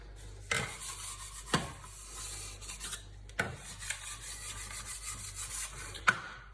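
A dough scraper rubbing and scraping across a floured work surface under sourdough, producing soft, close rasping strokes with a few sharper taps at irregular intervals, no talking.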